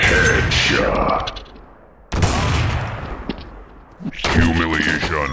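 Heavy AWP sniper rifle shots in Counter-Strike Source, played on a Lego-themed map: loud booming reports with echoing tails, separated by brief quieter gaps, with game voice announcements mixed in.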